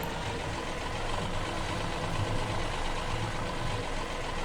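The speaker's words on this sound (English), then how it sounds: "this tractor is perfect for this job" A tractor engine idles in the Farming Simulator 2017 game, a steady low rumbling drone that holds even and unbroken for a few seconds with nobody talking.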